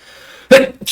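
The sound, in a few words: sneeze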